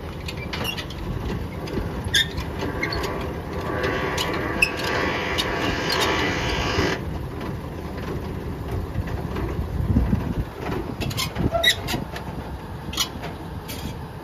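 A trailer jack is cranked in its lower gear to lift a pintle hitch trailer, making a steady mechanical ratcheting and grinding that runs for several seconds. Further clicks and clunks follow, with no talking.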